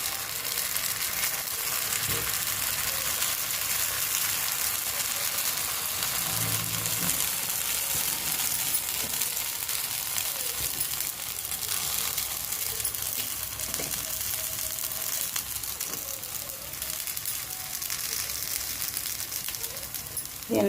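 Paniyaram batter made from idli batter sizzles in hot oil in the cups of a paniyaram pan, a steady close crackling hiss running throughout with a few soft clinks and stirring sounds, no talking.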